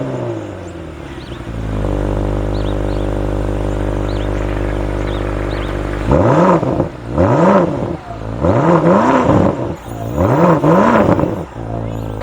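A BMW XM G09 SUV engine fires up close by, settles into a steady, loud idle, then is blipped four times in rising and falling revs with short pauses between.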